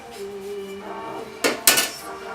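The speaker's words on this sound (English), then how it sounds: "So I'm going to go ahead and put this in my pie pan." Pie crust for a sweet potato butternut squash pie is set into a pie pan, giving two quick, close metallic clanks and rattles near the end over a quiet background hum.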